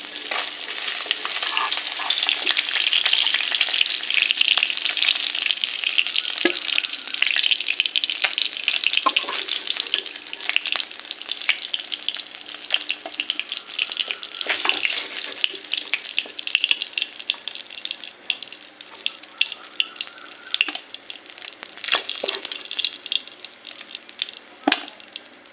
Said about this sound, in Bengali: একইভাবে বাকি মাছগুলো ভেজে নিব।